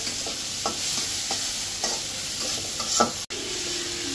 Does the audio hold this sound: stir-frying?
yes